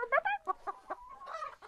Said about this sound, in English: Feeding the chickens.